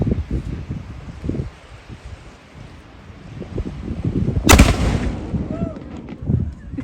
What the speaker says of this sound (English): So we just watched them fire off the cannon.